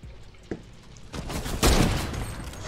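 Fortnite gunfire bursts out, a single sharp shot followed by a louder, rumbling RPG blast and a sustained roar of fire, with no talking.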